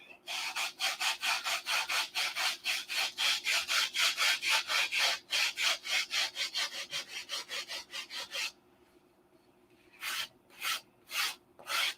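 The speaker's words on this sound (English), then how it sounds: "I think that's about as far on that side as I want to go with 80 grit" Soft wood being sanded by hand with 80-grit sandpaper: a steady run of rapid, rasping back-and-forth strokes, loud and close, then a pause and a few final strokes.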